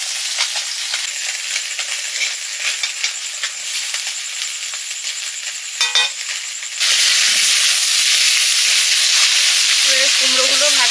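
Salted, turmeric-coated pumpkin slices fry in a wok with a steady hiss that jumps to a louder, denser sizzle partway through as more pieces go in.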